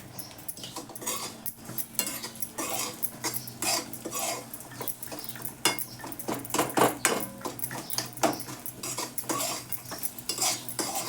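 Leftover bread pieces being sautéed in a pan for a quick snack, with a spoon scraping and clinking against the metal in a steady irregular rhythm over a soft sizzle, close and fairly loud with no talk.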